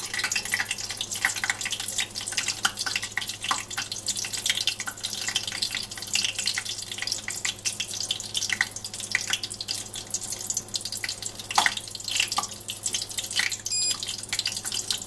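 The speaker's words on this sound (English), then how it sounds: "the popping sound is just moisture" Dense, faint crackling and popping sputters continuously over a low steady hum, like moisture sizzling as Shapeways WSF nylon plastic heats toward its melting point.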